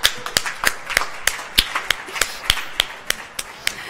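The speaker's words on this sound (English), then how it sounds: "I want to give him a huge round of applause" A small audience at a food conference claps for a birthday, giving a brisk run of sharp, separate claps that repeat at an even pace, close and distinct.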